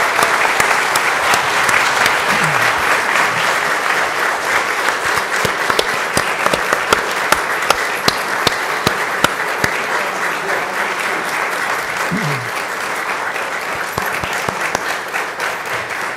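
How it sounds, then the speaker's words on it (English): An audience at a school district board of trustees meeting applauds a young student being honored, a steady, loud round of clapping that continues for many seconds with a few faint voices underneath. "help me by giving this young man a round of applause"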